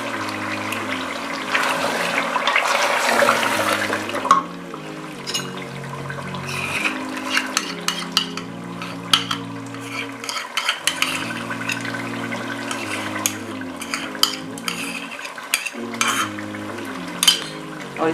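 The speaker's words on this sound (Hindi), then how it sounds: "और इसे भून लेंगे अच्छी तरह।" Mutton with yogurt being stirred and fried in a pot after the water has cooked off, with continuous sizzling and scraping of a spoon, close and loud, while music plays along.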